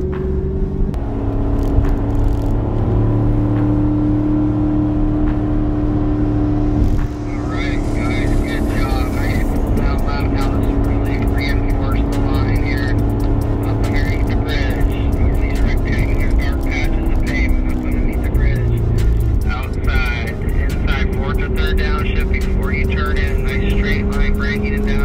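A car accelerating at Sears Point Sonoma Raceway on a track day, engine droning loud and close with steady rising and shifting tones throughout, a voice talking over it.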